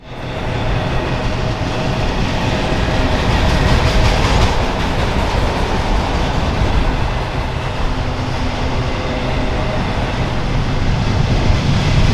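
A BNSF westbound manifest freight train bound for California passes on the Southern Transcon in Arizona, a loud, steady roar of wheels and rail clatter holding close throughout with no talk.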